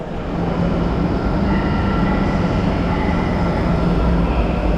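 A train rumbles steadily at a crowded railway station in Spain, a loud continuous mechanical roar with no voices.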